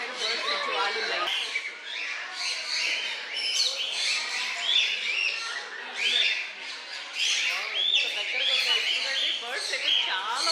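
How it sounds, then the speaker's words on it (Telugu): Many birds chirp and squawk close by in a park in the Yercaud hills, a dense, continuous chorus of overlapping calls and tweets with occasional louder squawks throughout. "ఇన్ని బర్డ్స్ ఇంత దగ్గరగా నేను ఇప్పుడే చూశాను."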